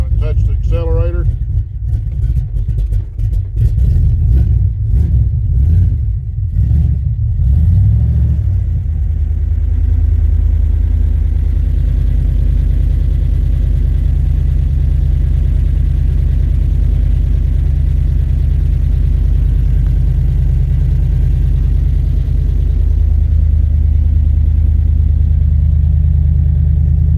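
Cold start of a 1975 Chevrolet C10 with a big-block 402 V8: a few seconds of cranking and sputtering catches, then the engine settles into a loud, close, steady low rumbling idle that runs on to the end.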